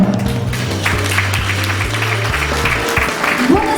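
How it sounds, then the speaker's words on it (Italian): An audience at a Miss Earth Italy beauty pageant at Hotel Park Venice claps steadily for a few seconds. The applause is dense and continuous, with low background music running underneath. "E allora accogliamo con un grande applauso Tiziano Tescaro."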